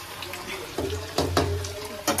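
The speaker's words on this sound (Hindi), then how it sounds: "होने लगे हमारे आलू फ्राई" Potatoes frying in a pan give a steady close sizzle, with a few louder bursts of crackling spread across a couple of seconds.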